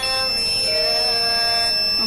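An electronic buzzer on a sound pollution monitoring system sounds a steady, loud, continuous tone that holds throughout without breaks.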